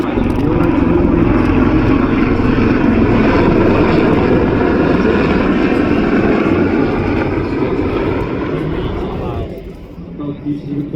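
CH-53 military helicopters lifting an F-777 howitzer at the MCAS Miramar airshow make a loud, continuous engine and rotor roar that fades near the end, with announcer talk heard over it.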